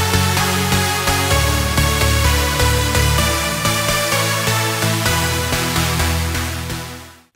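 A bright, full synthesizer lead plays a steady rhythmic pattern with pulsing chords and low bass, loud and continuous throughout, fading at the very end.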